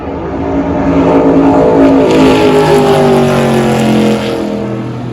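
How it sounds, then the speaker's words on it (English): A car driven around the trioval at Daytona International Speedway roars loudly and close, its engine note rising and shifting as it accelerates through the banking, with no talk over it. "This next clip is a video of me getting driven around the Trioval at Daytona, right where Ryan Newman had his fatal crash"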